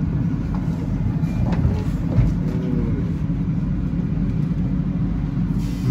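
An MRT Kajang Line train under strong emergency braking gives off a loud steady rumble with low grinding and faint squeals riding over it, continuing without a break.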